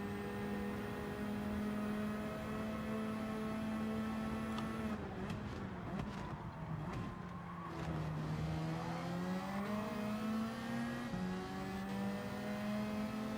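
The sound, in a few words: Ferrari race car engine revving in Gran Turismo 7 video game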